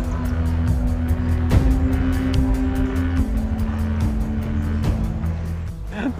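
A car driving in, its engine a steady close rumble with tire noise filling the whole stretch, with a faint voice at times.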